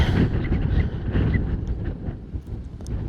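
Strong wind buffets the microphone outdoors by a lake where carp are fished, a steady, loud rushing roar with no voices, easing slightly toward the end.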